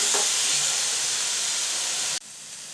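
Grated gooseberry sautéing in a pan for gooseberry rice, a steady close sizzle and hiss that cuts off abruptly near the end.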